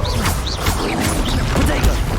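Explosive blasting curse in a Hogwarts Legacy PC fantasy duel, a crashing, thwacking burst of magic in a continuous loud mix of combat effects and shouted spell calls.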